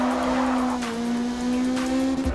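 Race car in Forza Motorsport braking late into a corner, its engine holding a steady, loud droning tone that shifts slightly before dropping away sharply at the end, with a hint of tire squeal.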